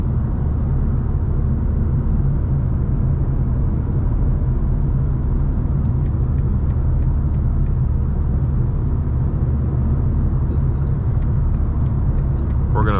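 A BMW G87 M2 with a loud exhaust drives on a Las Vegas freeway, heard from inside the car as a constant deep engine drone and road rumble with no talk.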